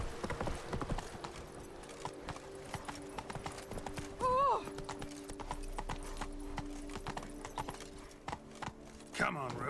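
Horse hooves clip-clop at a steady gallop in The Witcher 3 game, a fast continuous stream of close, crisp hits, with a brief whinny-like cry partway through and faint game sounds underneath.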